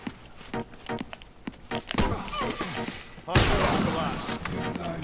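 Gunfire in a video game crackles in scattered sharp shots and bursts, ending in a louder sustained volley, with someone talking over parts of it.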